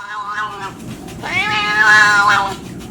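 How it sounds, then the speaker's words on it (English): A small male cat being scratched gives two loud, drawn-out meows up close, the second longer and rising, over a low steady background hum. "I don't think I've ever seen a cat enjoy getting scratched more than this little guy."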